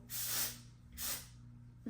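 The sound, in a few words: texture spray sprayed onto hair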